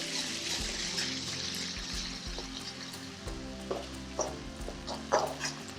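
Kashmiri chili paste cooking over high heat in a pan, a steady soft sizzle with intermittent scraping stirs and a few clinks of the utensil, close and continuous without talk.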